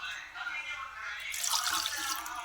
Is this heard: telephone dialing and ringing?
no